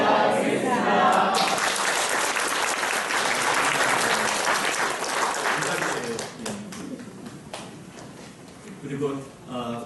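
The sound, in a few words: applause at a seminary entrance ceremony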